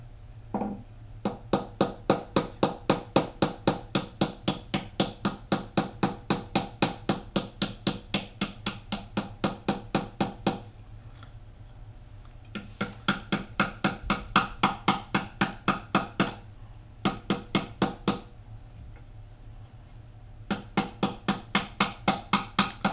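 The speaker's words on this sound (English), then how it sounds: "So I use this part of the hammer and I work right here on the stump." A copper spoon is hammered on a wooden stump in quick, even, sharp blows, running in long bursts with a few brief pauses between them, close and clear.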